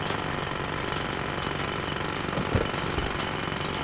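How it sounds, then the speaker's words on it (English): A steady, continuous jackhammer pounds away in the Demolition Company Gold video game, holding an even, dense rattle throughout with no one talking. "it did say I needed my jackhammer. I'm wondering if I should just use that for a bit."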